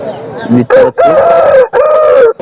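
A rooster crows loudly and close by at a poultry market in Chintamani, several drawn-out crowing calls in a row separated by brief pauses.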